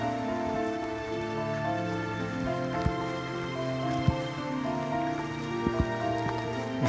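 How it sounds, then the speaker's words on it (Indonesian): Steady rain falls over a remote forest-ringed village, a dense continuous patter with occasional louder drips, alone without voices. "karena terjadi hujan ini kan kawan ya"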